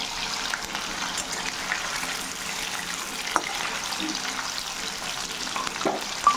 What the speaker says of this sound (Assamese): তাৰপিছতে এই মই পনীৰটো ভাজি লৈছোঁ।